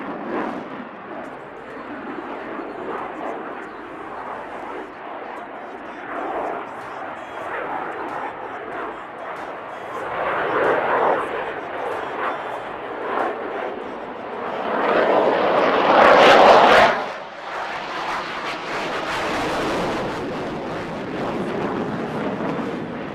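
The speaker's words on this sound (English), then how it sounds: "Can you imagine such a fast aircraft carrying out such a short turn?" A fast jet performs a minimum radius turn at the Aero India air show in Yelahanka, Bengaluru, its engine roar rising and falling at a distance and swelling to a loud peak as it passes overhead.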